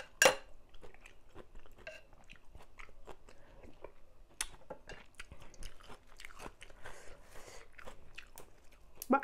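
Close crunching and chewing of Thai papaya salad (tam pa), with bites and wet mastication repeating steadily and a few sharper crunches standing out.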